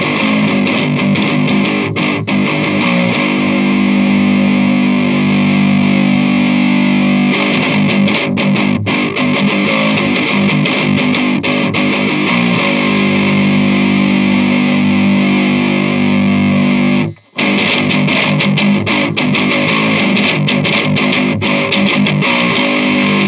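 Electric guitar played through a Mud Killer EQ pedal into a Fender Hot Rod amp, a dense, distorted, continuous strummed tone with one brief cut near the end, loud and close without talk.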